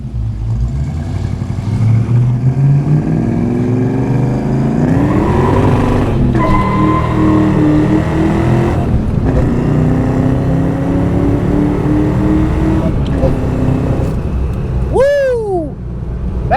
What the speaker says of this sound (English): That motor, intake, supercharger setup with the gears in the back makes for a really fun time in this car.